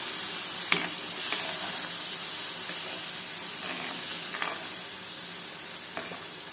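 Egg gravy boiling in a pan, a steady close sizzle and bubbling with soft pops and occasional stirring scrapes, alone without talk.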